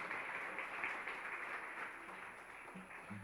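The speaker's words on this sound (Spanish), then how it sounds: "Un fuerte el aplauso para Jesús." A church congregation claps together in a continuous, even patter of many hands, faint and somewhat distant, lasting a few seconds.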